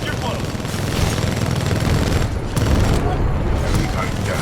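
Heavy weapon fire from a Titan in a mech combat video game, dense rapid bursts and booming impacts filling the whole stretch, loud and close, with shouted voices mixed in.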